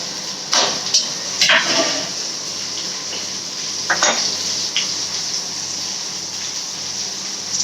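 Onions and tomato sautéing in a pan for chicken gravy, a steady hiss of frying under a few scraping stirs of a spoon, close and moderately loud.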